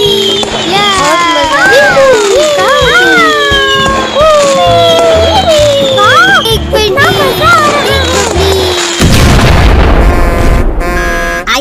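A Diwali firecracker bomb bursts near a parked car, a loud sudden blast near the end after children shout and chatter excitedly.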